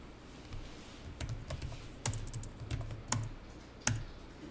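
Someone types on a computer keyboard while entering a company name into accounting software during a training class. Light, irregular keystroke clicks are punctuated by a few sharper, louder key strikes, with no voices.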